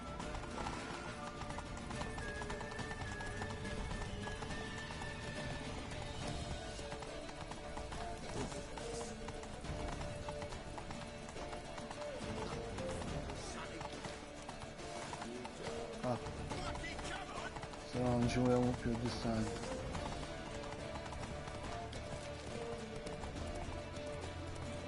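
Hooves clip-clop steadily as a horse gallops in The Witcher, a continuous rhythmic beat under game music and effects, with a voice talking throughout and a louder burst near the end.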